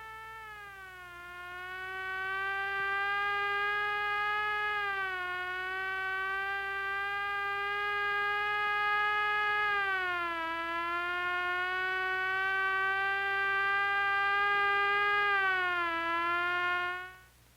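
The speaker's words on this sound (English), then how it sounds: "following an ambulance down an open highway" Ambulance siren wailing steadily on an open highway, a loud rising and falling tone held for the whole stretch with long sustained pitches and slow glides, no voices.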